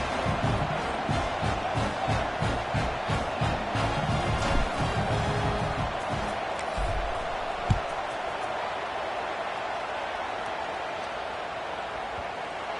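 Stadium crowd in the College Football 26 video game, a broad steady roar of murmuring fans with a few thumps, running continuously under a play-by-play commentator's voice after a touchdown.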